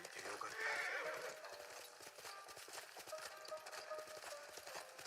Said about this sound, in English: Magical teleporting horse that always appears behind you.